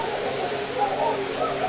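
Koka pigeons cooing in a loft, soft overlapping low coos rising and falling continuously at close range with a faint background hum.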